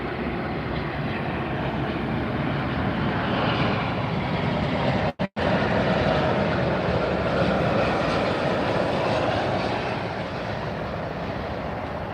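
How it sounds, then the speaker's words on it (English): An American Airlines jet arriving from Oranjestad at Miami airport gives a steady, broad roar that holds for about twelve seconds, with a brief dropout near the middle and a slight fade toward the end. "American Flight 1028 coming in from Oranjestad"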